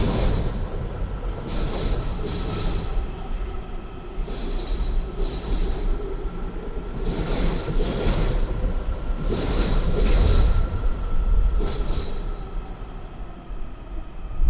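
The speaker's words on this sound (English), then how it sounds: "Another train is going by." A train rumbles past continuously, with rhythmic clatter of wheels and faint squeals rising and falling over a steady low roar.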